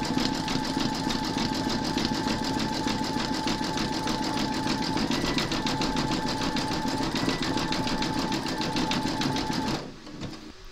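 Brother embroidery machine running steadily, zigzag stitching over the raw edges of a large whimsical Santa design, with a fast, even mechanical rattle that continues close and loud for about ten seconds before stopping abruptly.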